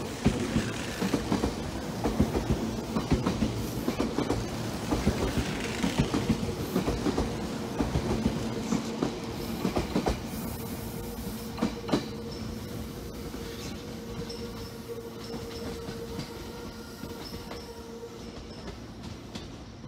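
A train pulls out of Inuyama Station in Japan with a loud, continuous rumble. Rhythmic wheel clicks over rail joints come steadily at first, then thin out as it moves on, with faint squeals.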